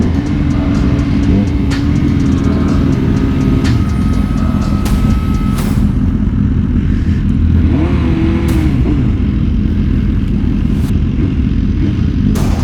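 A 2023 BMW M1000R motorcycle with a Stage 1 Brentune runs loud and close, its engine droning steadily with rising and falling revs under strong wind rush.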